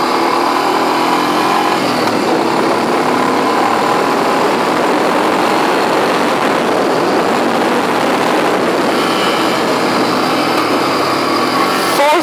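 A Honda 350 ATV engine held at full throttle in fourth gear, a loud, steady high-revving drone that stays constant and close throughout.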